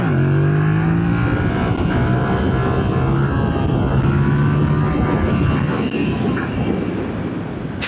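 Yamaha MT-07 motorcycle engine revving hard for a wheelie on a rough road, loud and close with rising and falling engine pitch over steady wind roar.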